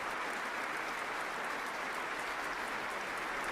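Standing ovation in City Hall at the Nobel Peace Prize ceremony, a dense, steady wash of applause from a large crowd, continuous and even throughout, heard from a distance.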